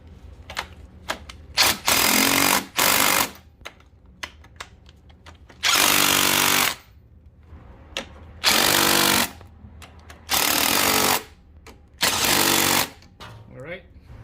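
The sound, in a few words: power tool tightening engine mount bolts on Honda CR-V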